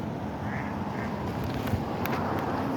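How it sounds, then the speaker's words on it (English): Ducks quack near a pond in Boise, faint scattered calls over a steady outdoor hiss of wind and distant traffic. "Oh, I see the ducks over here."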